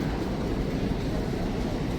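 Steady low rumble of a train running along the tracks, loud and continuous with no voices.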